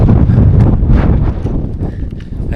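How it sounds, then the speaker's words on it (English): Strong gusts buffet the microphone on a steep mountain scramble, a loud, rough low roar with rustling and scuffing steps, no speech. "the wind is blowing extremely hard"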